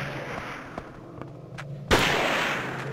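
Gunfire aimed at the player in the survival horror game Siren: a few faint, scattered shots over a murky ambient bed, then one sharp, loud report near the end, with a brief rumbling decay.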